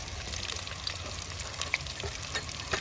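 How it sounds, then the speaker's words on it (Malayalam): Shallots, garlic, ginger and green chillies fry in hot oil for a spicy, tangy Kerala-style fish chilli curry, giving a steady, close sizzle with faint stirring scrapes and no talk. "അതിൻ്റെ കൂടെ ഇഞ്ചിയും പച്ചമുളകും കൂടി ഇട്ട് കൊടുത്തേക്കാം"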